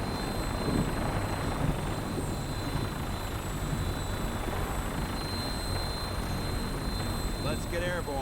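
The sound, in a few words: vertibird aircraft engine in video game Fallout 4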